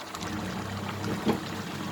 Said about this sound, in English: Now I have boiled some water in a kettle, which I'm going to add in now.